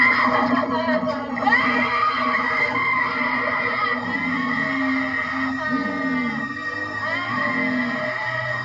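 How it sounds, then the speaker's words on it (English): A woman screams and wails in long, shrill, wavering cries in the 1984 film The Toxic Avenger, over a dense background of music and noise, loud and continuous throughout. "God, she sounds like a screaming newborn."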